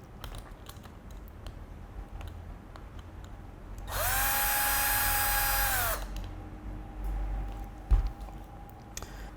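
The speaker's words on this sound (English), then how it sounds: "We're gonna unscrew it with the T20 bit." A cordless driver with a T20 bit spins out a ground wire screw in a hydraulic cable cutter's pump body, a loud steady whir lasting about two seconds amid quiet handling clicks.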